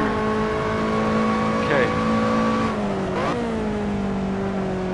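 A Lotus race car engine in Assetto Corsa holds a steady high drone down a straight, then shifts gears with sharp pitch drops, loud and close, with a brief spoken word over it.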